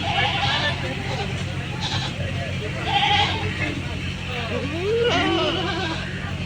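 Goats packed tightly in a vehicle on the way to Gabtoli market give repeated wavering bleats, several overlapping calls rising above vehicle rumble and nearby chatter of people.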